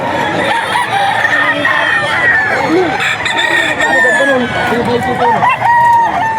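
Roosters crow and cluck loudly amid the busy clamor of the Bocaue pet market, with several birds overlapping throughout.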